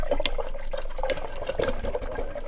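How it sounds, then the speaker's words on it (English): Water splashing and trickling as a paintbrush is swished and rinsed in a water container, a steady close-up liquid sound with small sloshes and no talking. "So now I'm just going to rinse my paintbrush."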